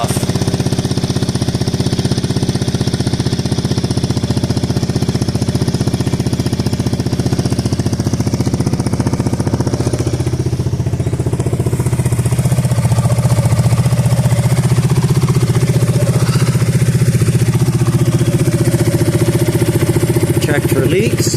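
A 2020 Yamaha Smax scooter with a newly fitted performance exhaust, baffle still in, idles loudly and steadily nearby, its dense motor drone holding throughout with a slight shift partway.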